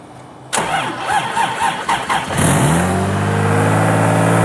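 A Lexus IS300 fitted with a freshly swapped CD009 manual transmission cranks over and catches, the starter chatter giving way at once to a loud, steady close-up idle that holds to the end with no talk.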